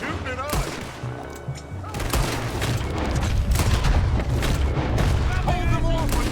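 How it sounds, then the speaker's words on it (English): Gunfire in the Red Dead Redemption 2 western game, a dense, loud barrage of sharp shots and booming blasts that builds into continuous fusillade, with brief voice fragments mixed in. "think they're shooting at us"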